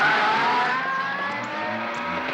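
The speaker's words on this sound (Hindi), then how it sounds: "अरे भांजे, तू रिवर्स में गाड़ी क्यों चला रहा है?" A car driven fast in reverse along a road closed ahead, its engine straining in a loud, sustained drone with some tire noise, close by and without voices.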